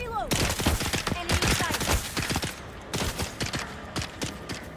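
Gunfire from another player in Dune Awakening comes in rapid bursts of sharp, close shots, clustered in quick volleys with brief pauses between them, while a voice speaks intermittently.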